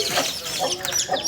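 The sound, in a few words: chickens clucking as children catch them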